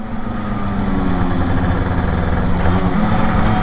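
A Yamaha TZR 50 moped-class motorcycle engine runs steadily at low idle-like revs, a continuous droning hum with a buzzing harmonic, close and fairly loud with no talk.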